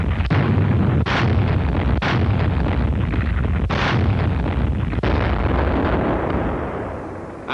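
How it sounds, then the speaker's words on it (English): WWII warships firing an artillery barrage to cover a landing in the North Pacific, heard as loud continuous booming with repeated heavy blasts roughly every second, dense and rumbling with no voices. "the warships laid down a barrage as cover for the main landing forces"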